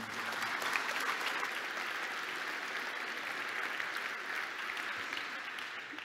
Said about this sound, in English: Please give a warm applause for Michel Westrate